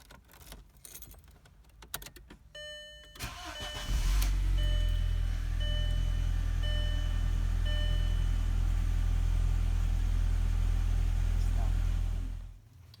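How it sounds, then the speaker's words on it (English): A 1.8L VW Passat engine starts with a brief rev, then settles into a steady, loud low idle, with a faint ringing chime early on. "So now we'll start the car and let it idle for about 30 seconds."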